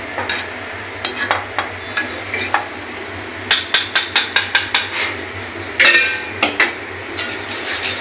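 Spices fry in oil in a pot while being stirred, with a soft sizzle under repeated sharp clacks and scrapes of a spoon against the metal, close and irregular, coming in quick bursts.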